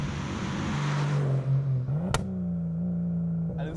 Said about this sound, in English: let's go for a drive, see what Ryan's E30 is all about on this cold December day